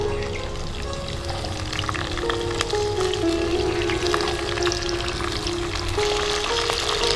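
Bean pieces go into hot oil already holding potatoes and nigella seeds, cooked village style, and fry with a continuous loud sizzle heard close up, with faint tonal background sounds and no speech.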